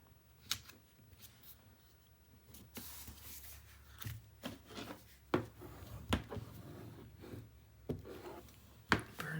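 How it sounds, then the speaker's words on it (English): Paper being burnished down onto a mini album page by hand, close and quiet, with irregular rubbing strokes and soft scraping bursts separated by brief pauses. "Burnish that down."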